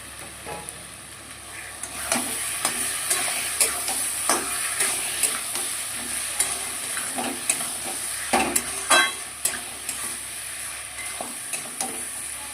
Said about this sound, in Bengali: আলুগুলো দিয়ে ভালো করে কষাবো